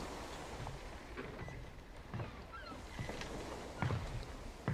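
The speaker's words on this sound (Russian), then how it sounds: "Я слышу чаек, я слышу шаги." Ambient seabirds call over a background wash of ocean waves in the video game Far Cry 6, with scattered honking cries and a few louder calls near the end, all fairly faint.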